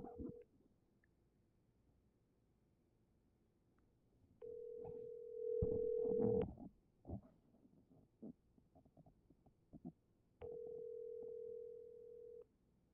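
A telephone ringback tone on an unanswered call, a steady tone heard in three separate long rings with quiet gaps between, over faint background rustle.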